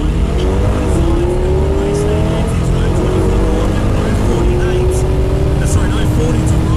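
Holden and Ford drag race cars roar side by side down an EFI drag strip, loud sustained engine noise with rising revving tones, under a commentator's voice.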